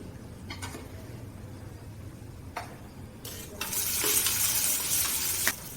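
Cumin and mustard seeds crackle and sizzle in hot oil in a kadhai, soft at first and then swelling into a loud, steady hiss with occasional sharp pops.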